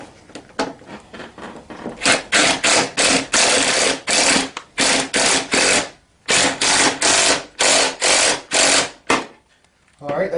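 Tightening the nut on the steering column of a Tao Tao CY50B scooter: rapid, loud ratcheting bursts in a regular rhythm, close by, broken by short pauses.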